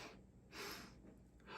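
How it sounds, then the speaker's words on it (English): Two quick inhales in a row, a double-breath exercise for calming performance anxiety, close and soft, with a louder rushing breath near the middle and another at the end. "It's going to be a double inhale."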